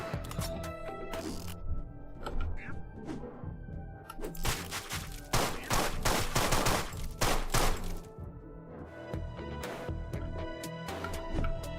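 Rapid gunfire in the video game Deadbolt, with dense volleys of sharp shots and bursts piling up loudly across the stretch, then thinning out toward the end.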